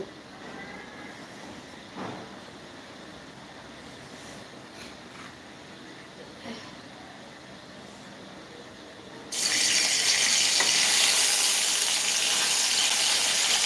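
A spice paste of ground cumin, onion, green chili and garlic hits a hot pan for a puti and tengra fish cabbage curry, bursting into a loud, steady hiss after a stretch of quiet kitchen background.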